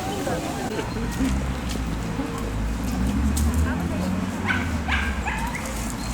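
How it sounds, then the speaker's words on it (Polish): An adopted shelter dog at an outdoor adoption parade in a city park barks and whimpers in short, repeated yips and whines, close by, over a low background of outdoor murmur and voices. "Fajny piesek, co?"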